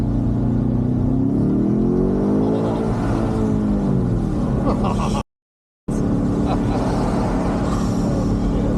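BMW M5 Touring accelerating hard in manual second gear, a loud close engine note climbing in pitch, then a brief cut before the drone resumes, with cabin and road noise throughout.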